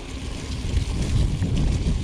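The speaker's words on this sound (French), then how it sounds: "on est sur une partie exposée au vent" Steady wind buffets the microphone in a continuous low roar, with no voices.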